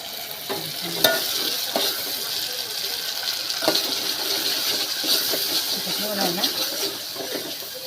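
Masala frying in a pan, a continuous sizzle with scraping stir strokes and occasional clinks of a spoon against the pan, with a voice faintly in the background.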